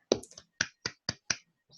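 A handful of sparse, sharp claps from a small audience after a seminar presentation on neural machine translation, about six distinct hits spaced unevenly, quiet and close in an otherwise silent room.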